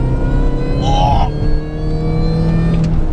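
A supercharged Mini Cooper S engine of about 220 bhp rumbles steadily and pulls under acceleration, with a brief higher supercharger whine rising partway through, close and loud.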